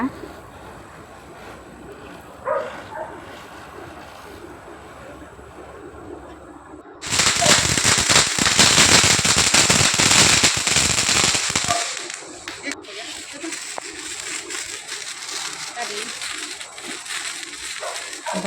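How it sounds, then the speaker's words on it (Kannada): Firecrackers go off at a home during Deepavali in rainy weather, starting with a few faint pops, then a loud dense crackling burst lasting several seconds before it fades to scattered noise, with voices nearby. "ಪಟಾಕಿ ಬಿಡು"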